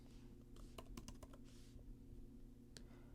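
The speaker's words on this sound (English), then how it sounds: "we're going to go ahead and type Zillow right here" Faint computer keyboard typing, a short cluster of quick key taps with a last isolated tap, over a low steady hum.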